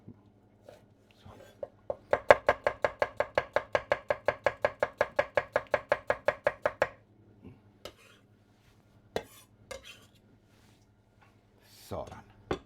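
A knife chops through red onion on a cutting board in a quick, steady run of crisp, close taps, followed by a few scattered knocks; a voice speaks faintly in the background.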